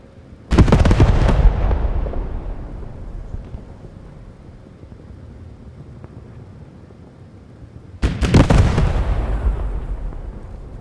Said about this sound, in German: Ah, unsere Raketen schießen.